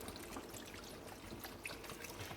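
Chicken broth pours from a container into a cooking pan, a quiet, steady trickling stream of liquid with soft splashes heard alone.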